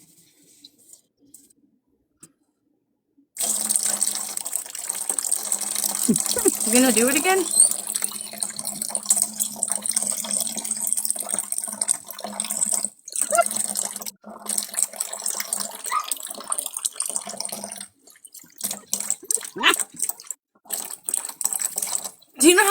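Tap water runs steadily into a dog's drinking dish for a long stretch, a continuous hiss with brief breaks, while a person talks over it.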